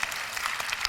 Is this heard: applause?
yes